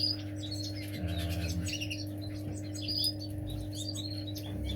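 Several birds chirp and tweet in quick, busy bursts inside a breeding shed over a constant low mechanical hum.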